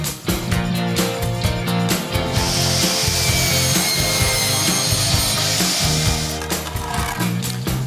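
A power saw cuts a wooden decking board for a terrace, a loud continuous buzzing cut lasting several seconds at close range, with no one speaking.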